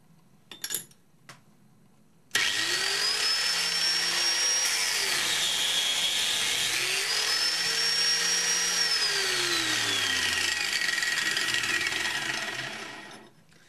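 Homemade sprung-table saw slicing through tool steel, starting after a few clicks and then grinding loudly and continuously for about eleven seconds, its pitch swooping up and down as the cut proceeds, before tapering off at the end.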